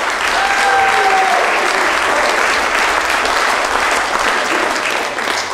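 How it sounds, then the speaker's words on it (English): An audience gives a performer a big round of applause before a song from My Fair Lady, loud and sustained clapping filling the whole stretch, with faint voices beneath. "Big round of applause for Mr."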